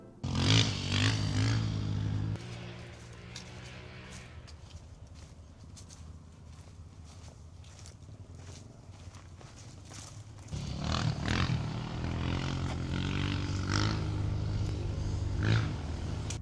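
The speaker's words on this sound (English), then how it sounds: "you can hear the roar of ATVs" ATVs roar across the Oregon dunes near Winchester Bay, a continuous engine drone that swells louder at the start and again toward the end, with no talking.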